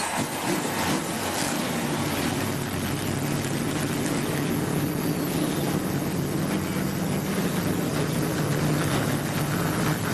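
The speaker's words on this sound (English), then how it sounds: "Gentlemen, start your engine!" NASCAR race car engines roaring at Bristol Motor Speedway before the 2008 O'Reilly 200, a dense continuous engine rumble filling a loud arena with steady, sustained intensity throughout.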